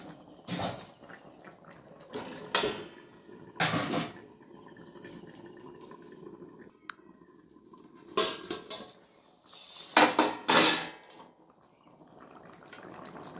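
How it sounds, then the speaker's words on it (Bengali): A metal lid clanks onto a cooking pot of small potato curry in a home kitchen, giving a few sharp, bright knocks separated by quiet stretches. "এবার আমি কিছুক্ষণের জন্য একটু ঢেকে দেবো"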